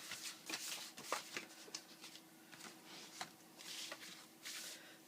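Scissors snip through paper to cut a tab on a mini file folder for a mini album: soft, close, papery crunches in short uneven bursts, faint and alone.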